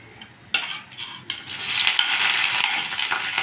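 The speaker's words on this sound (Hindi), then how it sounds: "देखिए तेल हमारा गर्म हो गया, इसमें डाल देते हैं हम जीरा" Cumin and garlic dropped into hot oil, with a couple of sharp clinks and then a bright, loud sizzle that swells and holds steady.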